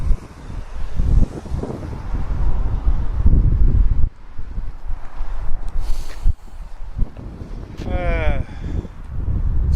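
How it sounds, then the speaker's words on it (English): Wind buffets a microphone outdoors, even with a furry windshield fitted, giving a heavy low rumble that gusts and drops unevenly, with brief other noises in the background. "It's a little bit windy."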